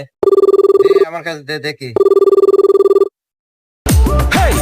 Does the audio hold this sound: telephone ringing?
yes